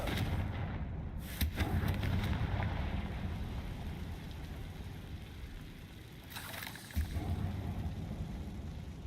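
A Confringo blasting spell from the Hogwarts Legacy video game lands as a loud, broad explosive boom, followed by rumbling debris, with a second burst a few seconds later over a continuous noisy bed.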